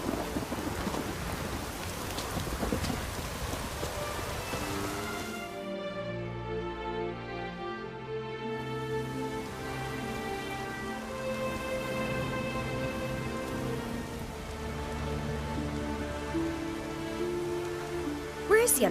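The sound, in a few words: rain storm in video game Witcher 3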